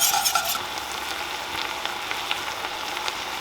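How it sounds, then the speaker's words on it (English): Cornstarch whisked into simmering orange sauce for crispy orange chicken, a bubbling sizzle with quick scraping whisk strokes, moderately close and without voices. "we're gonna add about a teaspoon of cornstarch just to help thicken it up, and then whisk it in"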